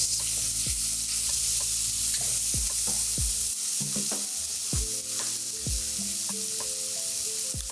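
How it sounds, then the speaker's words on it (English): Mushrooms sautéing in a pan for pasta, a steady close sizzle broken by repeated scraping and knocking of a utensil as they are stirred, with no talking. "So our mushroom is sauteed."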